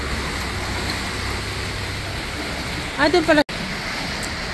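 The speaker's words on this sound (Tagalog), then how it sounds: "lakas ng agos dito ng tubig" Strong water current rushing under a bridge at Flatts Village, Bermuda, a steady loud broadband roar throughout, briefly overlaid by a short spoken phrase.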